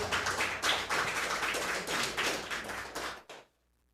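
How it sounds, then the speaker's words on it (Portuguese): A church congregation claps steadily for a few seconds, a dense patter of applause that stops abruptly into silence. "Vamos aplaudir a Jesus pela vida do presbítero Tiago nessa noite, em nome de Jesus."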